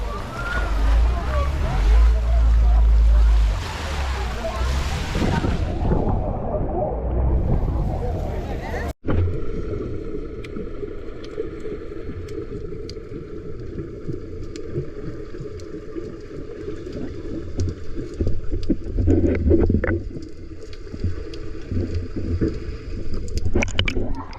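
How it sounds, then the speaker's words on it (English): Loud roaring engine and rushing water of boats at sea off Suluada Island near Adrasan, Turkey, with wind buffeting and a sudden shift to a steadier motor drone. "look at the amount of boats actually here"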